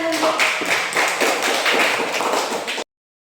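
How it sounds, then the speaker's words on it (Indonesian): Elementary school pupils in a fourth-grade classroom clap together in quick, fairly loud bursts for under three seconds, then silence. "Ya, tepuk tangan."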